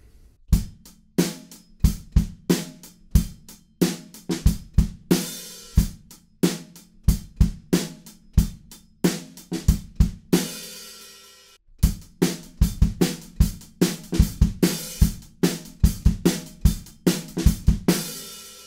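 A drum kit plays the verse groove of a song, with punchy kick and snare hits over bright cymbals in a fast, steady driving rhythm. There is one short gap partway through.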